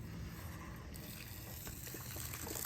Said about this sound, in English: we're gonna open up our hose,